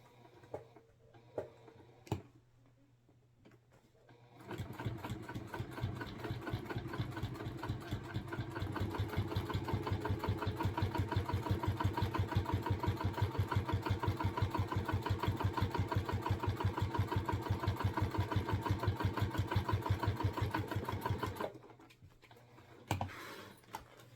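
A sewing machine top stitches a bag seam in chain stitch, starting after a few quiet clicks and running a fast, even, rapid-fire rhythm for about seventeen seconds before stopping abruptly, followed by light handling noises.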